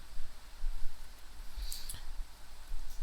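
A computer mouse clicks while working in Adobe Illustrator, two quick, sharp clicks close together against a faint background hiss, with no speech.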